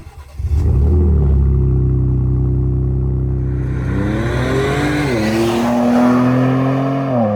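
A Ford Raptor pickup's engine and exhaust roar up loudly and close, the deep revs climbing and settling in smooth sweeps with a saturated, straight-through exhaust tone.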